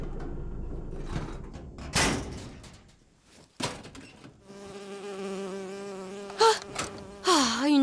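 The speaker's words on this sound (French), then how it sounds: "Oh, une abeille. J'ai horreur de ça." A bee drones and buzzes with a wavering pitch in BioShock Infinite, close and steady for several seconds, broken by game clicks, thuds and short breathy sounds.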